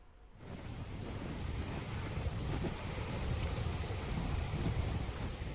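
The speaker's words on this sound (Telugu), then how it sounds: "భారీ వరద కారణంగా తెలుగు రాష్ట్రాల్లోని ప్రాజెక్టుల గేట్లు ఎత్తి దిగువకు నీరు విడుదల చేస్తున్నారు" Floodwater rushes through the opened gates of an irrigation dam on a river in Telangana after heavy rain. It makes a loud, unbroken roar with wind buffeting over it, and no voices are heard.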